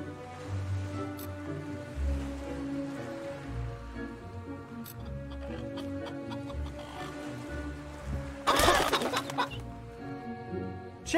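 Chickens clucking in the chicken-kicking minigame of Fable Anniversary, scattered clucks over looping game music, with a louder burst of noise near the end.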